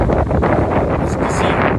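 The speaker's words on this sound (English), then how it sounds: "As you can see, it is very windy out here." Strong wind blows across an outdoor golf course in San Diego, buffeting the microphone with loud, continuous, roaring rumble and gusty rustle throughout, with no other sound standing out.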